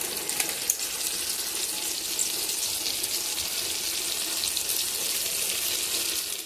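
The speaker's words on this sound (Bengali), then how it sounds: "এখন মিক্সির জারটা ধুয়ে একটু জল দিয়ে দেব।" Tap water runs steadily to rinse a mixer grinder jar, a continuous hissing splash at close range with no talking.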